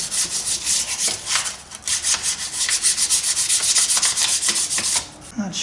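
Gunk is scraped and rubbed out of the slot of an antique Millers Falls miter saw, giving a close, loud, continuous gritty rasping with rhythmic strokes and no talking.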